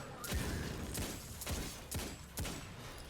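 Hand cannon fire in Destiny 2, five crisp, punchy shots at a steady pace of about one every half second, moderately loud over faint background game noise, with no voices.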